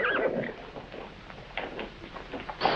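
A horse neighs and snorts close by in a scene from a 1955 television drama, with scattered shorter whinnies and rustling following the opening call.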